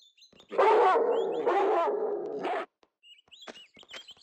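A dog in Tomb Raider 2 gives three loud, close barks in quick succession, followed by faint scattered game sounds and small clicks.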